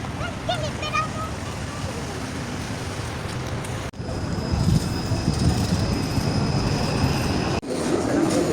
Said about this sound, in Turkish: bakın metro orada